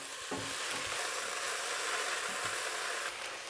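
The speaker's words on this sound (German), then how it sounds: "Und schön weiter braten lassen." Leeks fry in a pan with a steady, close crackling sizzle and a few soft stirring knocks, no voices.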